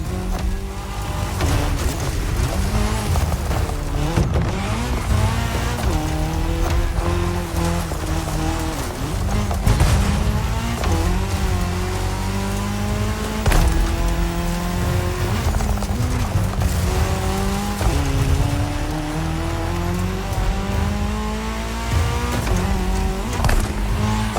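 Race cars in The Crew Motorfest video game roar continuously through a cross-terrain race on tarmac, with engine notes rising and falling in repeated shifts, loud and steady throughout, no voices.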